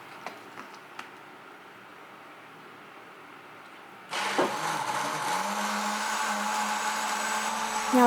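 An electric blender whirs loudly into a steady, roaring grind, pureeing almonds with water and a pinch of salt into almond milk, starting abruptly after a few seconds of quiet room tone with light clicks.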